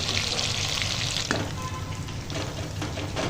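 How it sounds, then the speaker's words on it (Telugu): Mutton keema mutti deep-fry in hot oil with a dense, even sizzling hiss throughout, broken by a sharp tap as a piece is turned. "ఇలా టర్న్ చేసుకుంటూ వేయించుకోవాలి"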